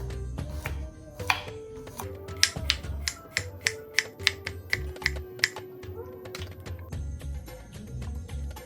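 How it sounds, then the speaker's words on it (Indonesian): Ingredients chopped into small pieces on a board beside a beach, a steady run of sharp knife taps, about a dozen close, crisp strikes with short pauses between. "pertama kita harus potong-potong dulu, potong-potong kecil-kecil ya"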